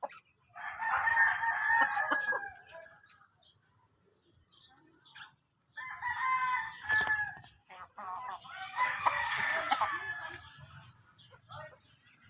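Chickens cluck and a rooster crows in bursts, with quieter gaps between calls, fairly close and clear outdoors.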